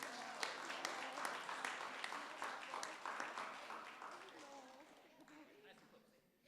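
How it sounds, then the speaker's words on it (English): Applause fills a city council meeting room, steady scattered clapping from the audience that slowly fades, with a voice speaking over it. "let's give them another round of applause"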